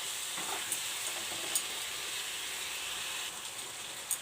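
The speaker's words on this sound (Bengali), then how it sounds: "আলু ভাজাটা দিয়ে ভালো করে কষিয়ে নেব।" Fried potatoes sauté in a pan with sugar and salt, a steady soft sizzle with faint scraping stirs, close and even, with no talking.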